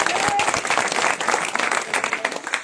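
An audience at a political campaign rally in Hindi greets a visiting spokesperson from Delhi with loud, dense applause, sustained and steady throughout, with a brief raised voice heard near the start.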